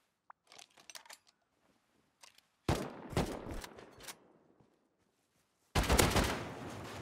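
AK rifle gunfire in a video game comes as two loud, close bursts of rapid automatic shots, each cutting off sharply, with scattered quieter clicks and small sounds in between.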